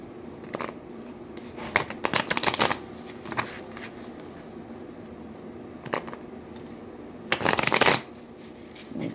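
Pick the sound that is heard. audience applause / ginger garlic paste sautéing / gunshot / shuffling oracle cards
shuffling oracle cards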